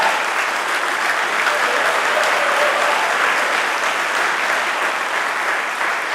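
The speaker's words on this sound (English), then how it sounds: "You stand up and get our round of applause." Sustained applause from a gala audience at a historical society event honoring Tony Lassiter, a dense, even wash of clapping holding steady at full strength throughout with no pauses.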